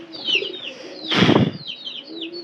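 Pigeons flap and flutter inside a room, one loud burst of wingbeats in the middle, with chirps and soft calls around it.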